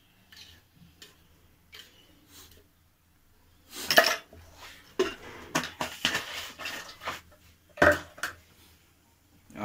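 A spoon scrapes and clinks against a pot while Kashmiri noon chai (salted pink tea) is stirred, with irregular metallic knocks and rattles, some sharp and loud, over a quiet kitchen background.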